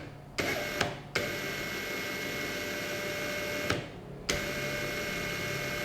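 A DCK KDPL03-14 cordless brushless power tool runs at low speed, about 1100 RPM, with a steady whirring hum broken by a few brief dips and restarts, close and even, no one speaking.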